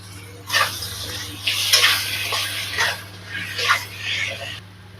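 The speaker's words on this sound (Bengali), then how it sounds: "অল্প জল দিয়ে দিলাম, কারণ মশলাটা পুরো লাগবে না।" A little water poured into a pan of curry masala with turmeric, ginger, cumin and coriander paste, heard as short splashing, hissing bursts alongside a speaking voice.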